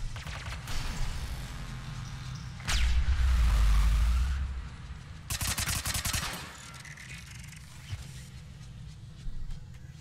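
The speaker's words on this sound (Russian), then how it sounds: "Пушка бьет вон оттуда по центру, а импульс идет вообще повсюду." In Mass Effect 3, a cannon fires and energy pulses blast, heard as a heavy roaring burst in the middle, then a sharp crackling volley, with smaller thuds and ambient game noise between them.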